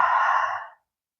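A single long, deep exhaled breath is taken during a somatic movement session, close and breathy, fading out within a second.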